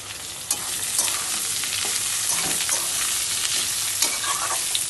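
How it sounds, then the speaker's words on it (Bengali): Potatoes frying with already-browned onions in a pan, giving a dense, continuous sizzle with occasional sharp clicks of stirring, close and fairly loud, no speech. "এবার আলুটাকে এর মধ্যে দিয়ে দিলাম, দিয়ে ভালো করে আলুটাও লাল লাল করে ভেজে নেব"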